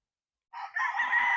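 A 22-month-old bull stag rooster crowing once after a short silence, a loud, close, clear crow with a brief opening note followed by a longer sustained call.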